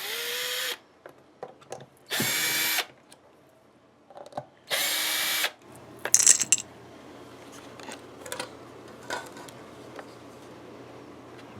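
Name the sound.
power drill driving out guitar screws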